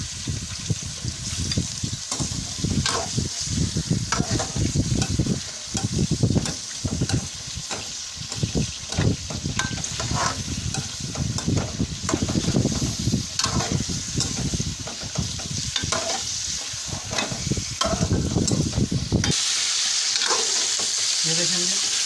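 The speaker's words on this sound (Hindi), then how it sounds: "हमने थोड़ा सा इससे कलर चेंज कर लिया, गोश्त को भून लिया घी में" Mutton pieces with marrow bones sear in ghee for nihari, a loud, sustained sizzle up close broken by frequent rhythmic scrapes and clatters of stirring, with no talking, before the frying eases near the end.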